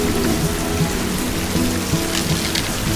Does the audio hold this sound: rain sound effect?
yes